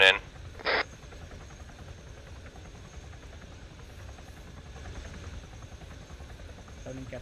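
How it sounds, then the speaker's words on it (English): A Chinook helicopter drones steadily in the distance, a low, continuous rotor hum during a military airsoft-style operation, with brief radio voices and clicks over it. "let's fall back to the Chinook, over"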